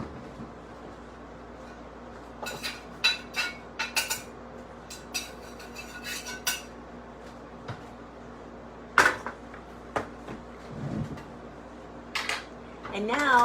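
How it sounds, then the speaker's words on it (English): A utensil scrapes leftover egg flakes off a dirty skillet, giving scattered sharp scrapes and clinks of metal on the pan, some louder than others, against quiet kitchen background. "I'm going to just scrape off the last of those egg flakes"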